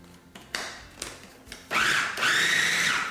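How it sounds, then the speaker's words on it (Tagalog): A food processor pulses carrot, onion and leaves for siomai filling, with short sharp whirring bursts followed by a longer, louder sustained spin, all close and with no talk. "Itinutuloy ko lang yung pag-pulse dito hanggang sa maging pinong-pino na yung mga ingredients."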